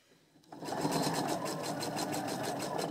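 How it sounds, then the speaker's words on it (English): A sewing machine stitches a neck slit on a T-tunic, starting after a brief quiet moment and then running in a steady, close, rapid mechanical whir with rhythmic needle ticks. "we're now just going to sew to the end"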